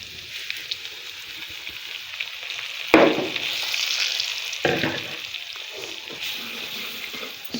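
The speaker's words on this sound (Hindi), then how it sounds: "ये देखिए हमारा घी गर्म हो चुका है। अब हम इसमें सूजी ऐड करने लगे।" Semolina goes into hot ghee: a soft background hiss, then a sudden louder sizzling burst, with a few more crackling flare-ups as it settles.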